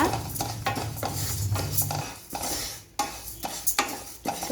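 Moong dal for a lentil pradhaman is stirred and roasted in a pan on low flame until lightly browned, a utensil scraping the metal in uneven repeated strokes over a faint, soft sizzle.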